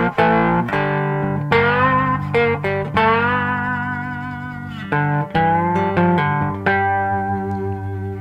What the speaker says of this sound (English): And a bit of distortion.